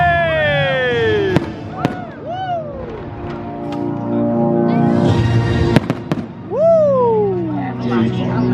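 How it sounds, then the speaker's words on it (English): Fireworks display at Blackpool Pleasure Beach, with sharp bursts and pops and rising whistling shells, heard over an excited crowd with voices talking and cheering throughout. "it's time for the fireworks."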